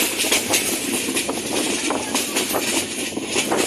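Parabat Express train crossing the Fenchuganj rail bridge, a steady rumbling roar with repeated clattering wheel beats throughout.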